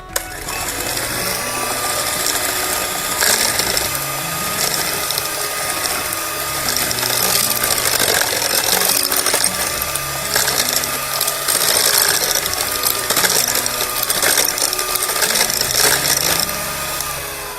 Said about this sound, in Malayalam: നമ്മൾ ജസ്റ്റ് ഒന്ന് മിക്സ് ചെയ്യാൻ വേണ്ടിയിട്ട് അടിച്ചാൽ മതി